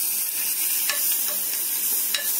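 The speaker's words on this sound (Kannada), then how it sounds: "ಈಗ ಕಲಸಿಕೊಳ್ಳೋಣ ವೀಕ್ಷಕರೇ." Grated carrot for halwa is stirred in hot ghee: a soft continuous sizzle with a few sharp scraping strokes of a spoon against the pan, close and fairly quiet.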